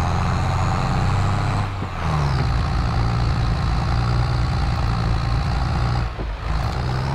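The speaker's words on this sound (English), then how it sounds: "See, this tractor's just really underpowered." A tractor engine in Farming Simulator 22 drones steadily and loudly, a continuous low rumble with a brief dip in pitch partway through and no talking.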